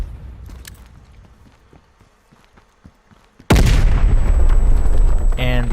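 A spawn tube lands with a sudden loud, close impact on the Cartel map in Black Ops Cold War, near the end of the bridge. A quieter stretch of faint thuds and footsteps comes before it, and a sustained roaring rumble follows.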